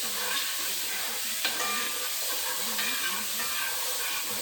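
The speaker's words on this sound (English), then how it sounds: "turn my heat down on my skillet here, and we're going to cook this" Shrimp fry in a skillet over lowered heat, giving a steady, close, bright sizzling hiss with faint crackles throughout and no voices.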